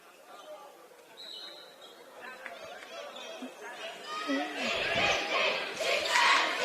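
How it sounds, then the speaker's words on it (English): Student crowd cheering at a boys high school basketball game, RSL Academy against Layton Christian Academy, a swelling roar of voices that builds louder toward the end, with shouting mixed into the noise. "They were cheering there as Cabarro there called for the foul"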